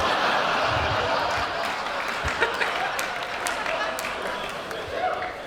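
A comedy-show audience at the Melbourne Fringe Festival breaks into applause, with scattered chuckles; the clapping is loudest at the start, then thins and fades as a voice speaks over it.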